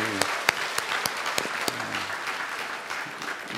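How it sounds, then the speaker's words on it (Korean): A church congregation claps together after a birth announcement during a worship service, a short burst of applause that fades into softer scattered clapping and room noise. "우리 한번 박수 한번 하겠습니다"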